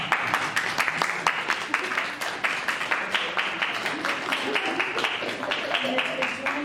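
Audience applauding librarians and archivists at an event honoring Arturo Schomburg in Maryland, steady sustained clapping with distinct individual claps rising above the crowd throughout, fairly loud and close.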